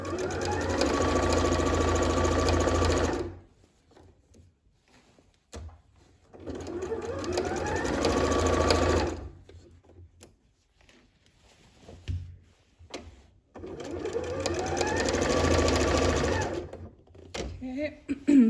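A SEWme sewing machine stitching elastic into pants, running in three long bursts of fast, rhythmic whirring with short quiet pauses between them.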